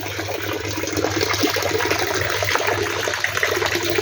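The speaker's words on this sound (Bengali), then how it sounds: "আর একদিক থেকে আউটলেট আছে আউটলেট দিয়ে কন্টিনিউ এরকম জল আমার বেরোয়" Water pours steadily from the outlet of a fish fry tank holding young shingi catfish, a constant close gushing flow with no pauses.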